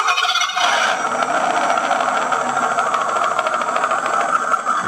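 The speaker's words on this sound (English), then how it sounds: "if you want to start up the sound, start up the engine, all you do is pull the throttle a tiny bit" Simulated engine sound from an RC sound module fitted to a 1/10 scale WPL C74 Suzuki Jimny, droning loud and steady close by for the whole stretch, with no talk over it.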